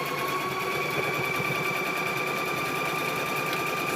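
A sewing machine hums continuously at a steady pace, stitching quilt squares, close and even throughout with a faint tonal whine.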